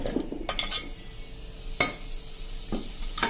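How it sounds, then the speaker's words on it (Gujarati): Potato pieces dropped into a pan over a gas flame give short bursts of sizzling and clattering, with scraping stirs and a few sharp metallic clinks spaced through an otherwise quiet stretch. "ગેસ ઓન કરીને આપણે એમાં બટેટા નાખી દેશું"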